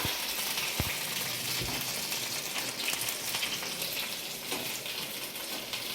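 Ingredients for coriander chutney fry in a pan until golden, giving a steady close sizzle with a few small pops, and no one talks over it.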